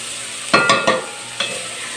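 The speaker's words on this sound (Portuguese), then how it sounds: "pra fritar, junto com a cebola, o pimentão e o bacon" Onion, bell pepper and bacon fry together in a pan, a loud steady sizzle with a quick burst of three stirring scrapes followed by one more.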